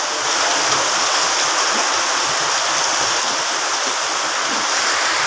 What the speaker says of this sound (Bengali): অনেক বৃষ্টি হচ্ছে আমাদের এলাকায়